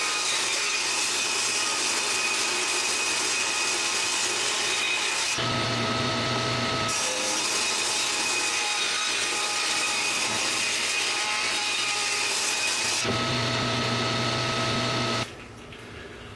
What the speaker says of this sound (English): So I can cut almost ½ an inch off of each one of these outside faces